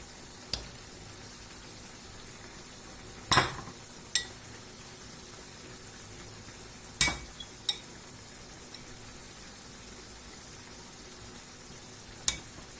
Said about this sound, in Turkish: Sonra tereyağını da şöyle erimesi için karıştıralım ve pişmeye devam etsin.